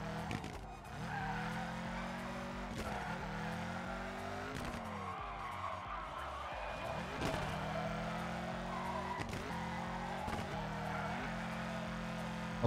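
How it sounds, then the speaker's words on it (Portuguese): A stock Nissan Silvia in a drift racing video game revs and sweeps its engine pitch up and down continuously, with repeated gear shifts and tire squeal running throughout a long sliding run. "Motor bem fraquinho."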